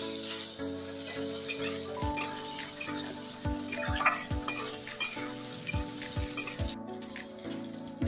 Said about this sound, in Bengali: এখন দিয়ে দিচ্ছি কেটে রাখা টমেটো।